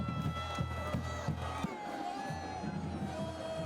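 A packed stadium crowd cheers and roars continuously at an OU college football spring game at Gaylord Family Memorial Stadium, loud and sustained with rhythmic bursts and shouts throughout.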